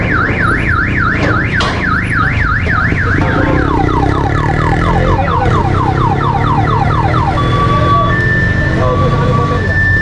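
Car alarm blaring while the car is being towed, cycling through loud warbling whoops, then rapid descending chirps and steady beeps, close and continuous over road and engine noise.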